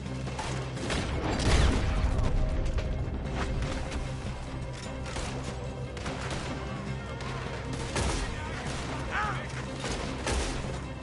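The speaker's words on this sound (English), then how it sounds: "Looks like we're shooting our way out of here, fellers." Dense gunfire from a chaotic shootout in the video game Red Dead Redemption 2, with repeated sharp shots and crashes under a continuous din of music and effects, and a voice talking over parts of it.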